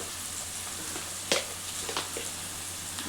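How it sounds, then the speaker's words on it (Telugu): Onion and green chili sizzle steadily as they fry in a pan, a constant close hiss broken by one sharp crackling pop and a few softer spits. "ఇగో ఈ కలర్ రావాలి ఉల్లిగడ్డ పచ్చిమిర్చి ఇట్లా మంచిగా వేగింది"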